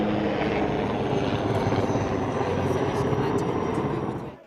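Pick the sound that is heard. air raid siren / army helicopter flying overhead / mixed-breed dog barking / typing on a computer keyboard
army helicopter flying overhead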